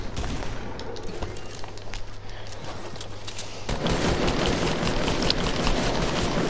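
Video game gunfire rattles in dense, continuous bursts, growing louder and busier in the second half, with no talking over it.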